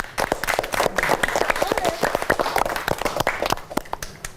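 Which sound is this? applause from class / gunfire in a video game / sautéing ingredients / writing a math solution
applause from class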